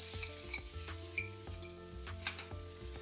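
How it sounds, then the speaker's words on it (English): Kung Pao chicken with sauce, green onion, peanuts and vegetables is stirred in a wok, a soft close sizzle under a steady rhythm of quick spatula scrapes and metallic taps, faint and without talk. "And then stir it and make sure all the starch, the sauce is all blended with this vegetable and the meat"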